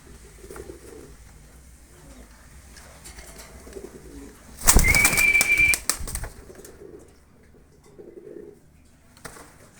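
Recher pigeons kept in a loft give soft, low coos under quiet background noise, interrupted midway by a loud burst of about a second that sounds like wings flapping, then settle back to low murmurs.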